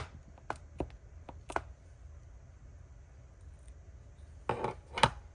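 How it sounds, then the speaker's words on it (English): A craft table clicks as it is pressed down while vintage postal envelopes are being made. A few sharp, separate clicks come early, then a denser cluster near the end over quiet room tone. "That clicking is getting on my nerves."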